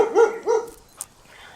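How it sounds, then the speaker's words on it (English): Dogs bark twice in quick succession out in an alley, loud and near, followed by a faint yip and then quiet. "my dogs are going to be crazy for a couple minutes because they're doing something in the alley"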